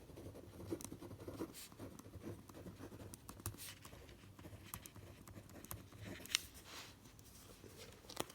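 Pen or pencil scratches faintly across paper in short irregular strokes while a cosine graph is written out, close and quiet with no talking.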